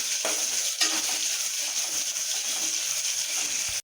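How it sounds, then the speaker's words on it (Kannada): Onions sizzle briskly in a hot pan, a loud continuous hiss with occasional stirring scrapes and one sharper knock near the start, with no talking. "ಈರುಳ್ಳಿನ ಹಾಕೊಂಡು ಚೆನ್ನಾಗಿ ಫ್ರೈ ಮಾಡ್ಕೊಬೇಕು"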